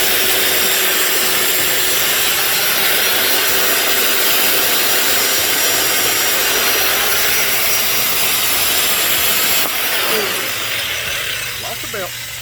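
Continuous abrasive belt polisher grinding steadily against the thrust surface of a Mopar 400 crankshaft using a 320 grit belt, a loud dense rasping hiss throughout that eases slightly near the end.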